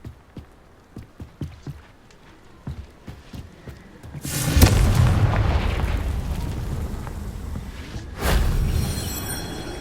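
A Confringo fire spell blast in the video game Hogwarts Legacy, a loud booming explosion with a sustained roaring rumble and a second impact, preceded by a run of light rhythmic footsteps.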